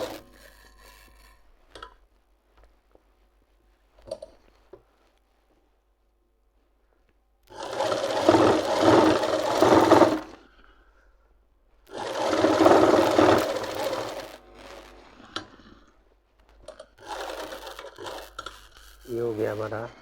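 A sewing machine stitches fabric for palazzo pants in three bursts of steady, close mechanical whirring, separated by quiet pauses and light handling.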